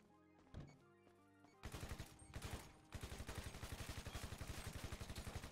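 Rapid automatic gunfire aimed at a house in GTA V, starting with a few scattered shots and then turning into a sustained loud, steady burst of rounds that carries to the end.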